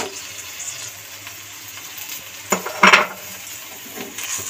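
Cauliflower paturi is stirred in a pan, with a soft ongoing sizzle broken by a couple of sharp scrapes and clinks of utensil against metal near the middle.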